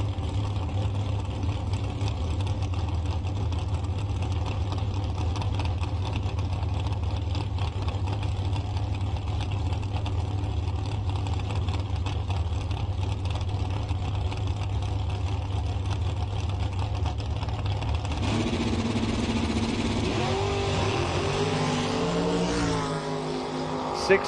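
Drag race cars run down the track at a Diamond Days bracket event, a continuous loud engine drone heard from a distance, ending in a rising roar of another car launching.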